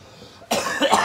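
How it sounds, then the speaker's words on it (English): A single harsh cough, close and loud, bursting out after a brief quiet moment. "Sorry, it hurts to cough."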